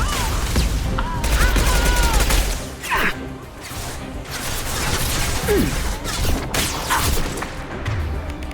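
Rapid gunfire bursts in the sci-fi shooter Mass Effect 2, loud overlapping volleys with booms and mechanical clatter during a firefight, with brief squad voices in between.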